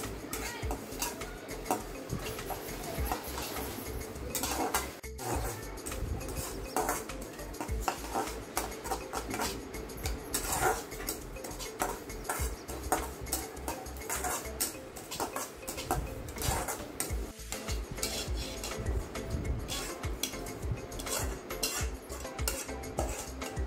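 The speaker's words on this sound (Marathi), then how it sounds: "थोडेसे तेल टाकून खसखस लाल होईपर्यंत भाजून घेऊ." Poppy seeds roasting in a little oil in a pan while a spoon or spatula stirs them, giving a steady run of close metallic scraping and clinking that keeps going without pause and with no voices.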